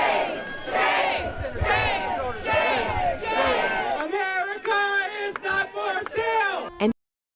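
A crowd of protesters outside a gala shouts and chants, loud and close, with massed voices for about four seconds before shorter bursts of raised yelling, then abrupt silence near the end.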